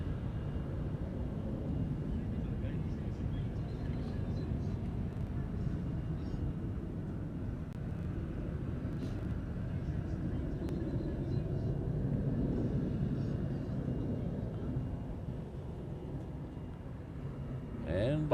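An Air New Zealand airliner arriving from Auckland at Honolulu airport gives a steady, loud low roar that holds for the whole stretch, swelling slightly midway, with faint voices in the background.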